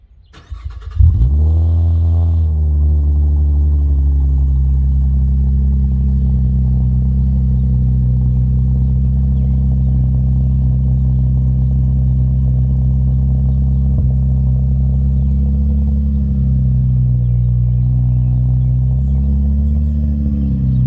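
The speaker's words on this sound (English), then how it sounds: "Nice deep throaty sound from a V6" A 2012 Chevrolet Camaro V6 with resonators deleted and a Magnaflow straight-through exhaust cold-starts with a brief crank, then settles into a loud, steady, deep rumbling idle that holds close and unbroken.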